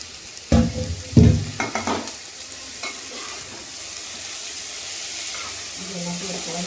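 Onions sizzle and fry in a pan as chopped capsicum and cabbage are tipped in, with a couple of loud clattering stirs early on, then a steady close hiss of frying.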